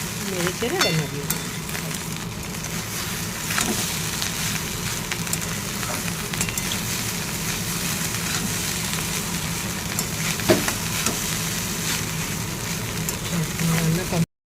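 Eggs for biryani are stirred and fried in a pan, giving a continuous faint sizzle with scattered scraping clicks, all at low level.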